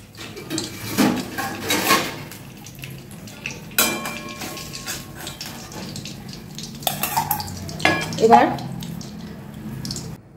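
Fried fish heads are lifted slowly out of a frying pan, with intermittent clinks and scrapes of a utensil against metal and soft oil sounds, close by with some faint background voice.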